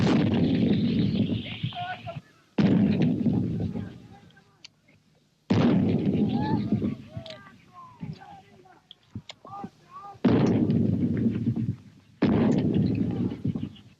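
An artillery battery fires toward Mount London during the Falklands War, with several long, heavy booming roars and rumbling decays separated by short gaps, and quieter speech between the blasts.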